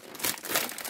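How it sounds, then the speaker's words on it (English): Paper and plastic packaging for a Disney doll house partwork crinkles in a dense burst of crackly rustling, close and fairly loud, with no talking. "Otherwise, we're going to get crinkle,"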